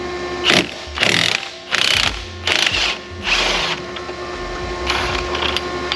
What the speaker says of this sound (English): this gun's got so much torque, it's crazy.